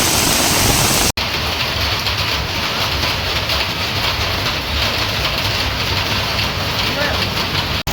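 Heavy rain with wind pours steadily in Ankleshwar, a dense close hiss of water pattering on surfaces throughout, with voices faintly underneath.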